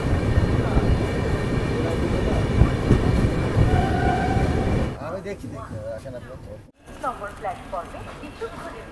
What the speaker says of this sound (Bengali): ট্রেনটা দারুণ চলছে, হেভি চলছে।